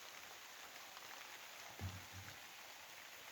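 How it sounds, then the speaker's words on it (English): Light rain falls at the end of a workday, a faint steady hiss of drops with one soft low thump partway through and no voices. "Some lovely rain just as we're finished with the day's work."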